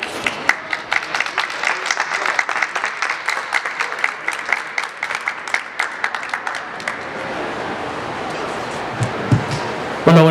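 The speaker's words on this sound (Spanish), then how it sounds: "vamos a recibirlos con un fuerte aplauso" An audience at a book fair writing workshop gives a loud round of applause, sharp dense clapping that swells, then gradually thins and trails off into quieter murmuring, with a voice starting at the very end.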